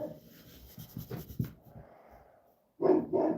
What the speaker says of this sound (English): What are you barking at, my guy?